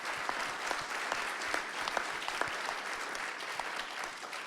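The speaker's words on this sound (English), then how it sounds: "let's give him a round of applause for that" Steady audience applause at a keynote interview, dense clapping that holds at an even level throughout with no voices over it.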